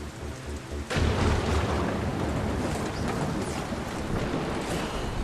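Sea storm lashing a boat: a sudden heavy crash hits about a second in, then a sustained loud roar of wind, rain and surging waves continues with no voices.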